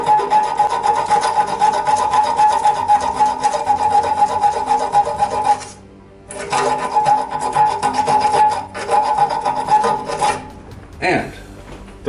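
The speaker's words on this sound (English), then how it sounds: "So you need to use your little piece of sandpaper and clean those up." Small sandpaper scrubs corroded copper spring contacts on an electrostatic air cleaner, a steady close rasping rub that stops briefly midway and then resumes, with no talking.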